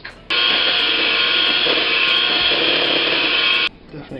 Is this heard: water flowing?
no